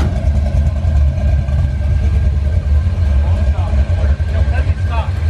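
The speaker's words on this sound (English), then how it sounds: "It just has a really bad exhaust leak. Yeah, that's it. That's why it's so loud." A 1964 Ford Galaxie with a modern engine and a bad exhaust leak rumbles loudly with a harsh, raspy exhaust, running rough and steady close by, with voices faint in the background.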